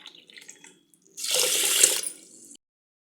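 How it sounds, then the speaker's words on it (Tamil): Water is poured into a pot over washed rice and moong dal while making pongal: a few soft clinks, then a close, steady splashing pour lasting about a second and a half that stops abruptly. "இப்போ நான் இதில் அஞ்சு டம்ளர் தண்ணி விட்டுருக்கேன்"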